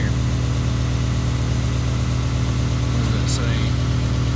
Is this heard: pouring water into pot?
no